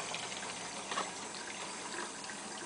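Water splashing and trickling steadily around a newborn boy during his first bath, a soft, continuous wash of liquid close by with no talk over it.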